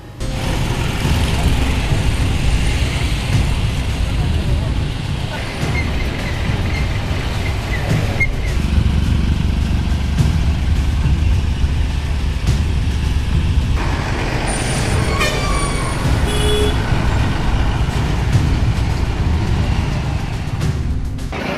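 Busy Mayem NSP Gate road junction in Goa, with dumper trucks and cars passing: loud, continuous heavy engine rumble with hissing air brakes and squeals, the traffic swelling and easing over about twenty seconds.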